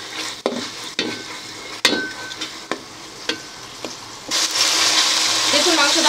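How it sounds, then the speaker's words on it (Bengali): Meat sizzling in a pan with ginger and garlic as it is stirred and sautéed for a vegetable dish, with sharp spoon scrapes at intervals and the frying growing louder and steadier toward the end; no one talks. "এখন আমি মাংসটাকেও ভালো করে কষিয়ে নেব।"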